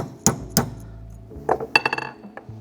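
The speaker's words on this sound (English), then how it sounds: "I like to line it up and use my deep socket as a little tool to get it started, and then just gently tap it on" A metal star washer is gently tapped onto a recliner shaft using a deep socket, giving a few sharp metallic clinks, two spaced taps followed by a quicker cluster of lighter ones, close and otherwise quiet.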